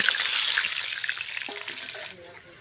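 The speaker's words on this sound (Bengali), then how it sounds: "এবার আলুগুলো ভেজে নেব।" Large potato chunks frying in hot oil, a loud continuous hiss and crackle throughout with a brief stirring clatter near the end.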